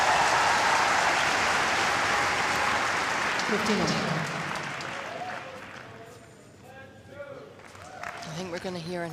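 Tennis crowd applauding at the Schroders Battle of the Brits event, a dense clatter of clapping that fades out over several seconds as a commentator starts talking.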